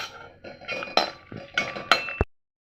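Mango pickle being stirred with a spoon in a pot, clinking and scraping in several short bursts that stop abruptly near the end.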